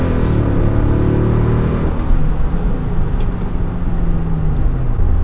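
A Mercedes-AMG car drives and accelerates, its engine rumbling loud and close from inside the cabin as the pitch sweeps upward through gear changes with steady road noise beneath.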